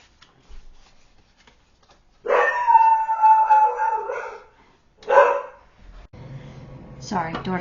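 Dogs barking and yipping in a home, a sustained burst of barks and howl-like cries followed by a second shorter burst, fairly close and loud, with household noise at the end.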